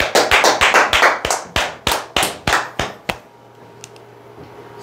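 A small audience claps for about three seconds, a dozen sharp, close hand claps in a quick, slightly uneven rhythm, then stops abruptly and leaves quiet room noise.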